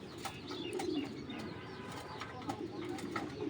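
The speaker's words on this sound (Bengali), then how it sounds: "কবুতর দেখেন" Racing giribaz pigeons coo softly and repeatedly in a low, rolling rhythm, with faint chirps and rustling around them and no talking.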